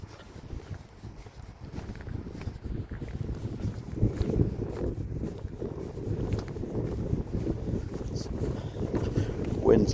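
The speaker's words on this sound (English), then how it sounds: "Wind's picked up, but we are very, very, very exposed." Wind gusts across an exposed, treeless open area on a night walk in Wigan, a continuous roaring rumble that rises and falls and buffets the microphone.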